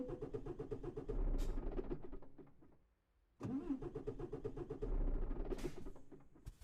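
Truck engine in Euro Truck Simulator 2, malfunctioning, cranking and catching into a rough rumble twice, dying into near silence between attempts, no talking.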